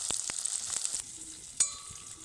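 Paneer cubes frying in oil, a soft crackling sizzle with a few spoon clinks and a short scrape, quiet and close, with no talking.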